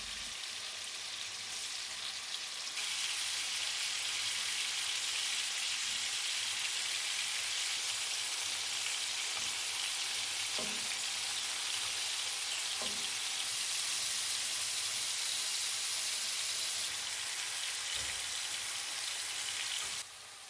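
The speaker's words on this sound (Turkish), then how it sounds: "Isınmış tavaya tavuk parçalarını kızartmak için yeterince yağ ekliyorum" Chicken pieces sizzle and crackle in plenty of hot oil in a pan over high heat, a dense, steady frying hiss throughout with a few soft pops and stirring taps.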